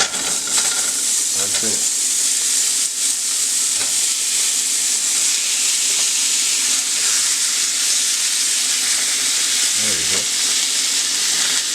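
Polish sausages frying in a skillet, a steady loud sizzle and hiss throughout with a couple of brief low thumps, while someone speaks briefly.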